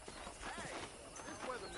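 Horse hooves clip-clop steadily across a ranch in the Red Dead Redemption video game on PlayStation 4, rhythmic and moderately loud under a dense bed of game ambience and music.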